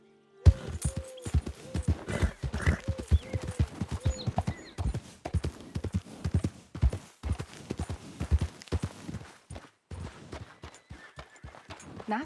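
Horse hooves clip-clop in a steady trot in Red Dead Redemption 2, the quick, fairly close hoofbeats running throughout with an occasional faint snort.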